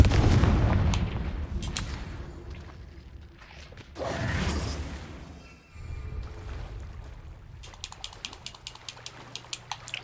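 A Confringo fire spell bursts out in Hogwarts Legacy, with a heavy whooshing blast swelling and fading, then sharp clicky impacts and crackles scattered near the end, the mix otherwise fairly quiet.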